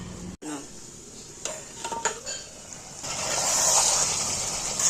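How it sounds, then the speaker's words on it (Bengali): A spoon scrapes and clatters against a pot of village-style mutton curry in a few distinct strokes, followed by a rising sizzle of the simmering meat, close and fairly loud. "এইভাবে নেড়ে নেড়ে মাংসটাকে করতে হবে"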